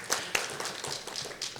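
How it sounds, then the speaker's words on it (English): An audience at a meeting claps for under two seconds, a brief scatter of hand claps, fairly faint and somewhat distant, with no talking. "I'm glad you're all applauding"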